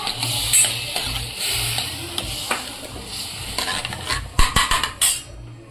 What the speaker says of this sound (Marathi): आपण आता हे हरभरे टाकून घेऊ